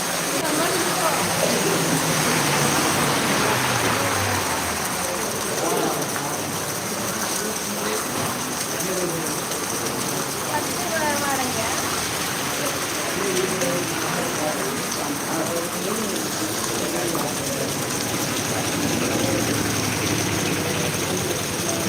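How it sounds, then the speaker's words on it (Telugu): Heavy evening rain pours down over the town of Bethamcherla, a dense, unbroken roar of falling water that stays loud and even throughout. "బేతంచెర్ల పట్టణంలో మంగళవారం సాయంత్రం ఆకస్మికంగా భారీ వర్షం కురిసింది"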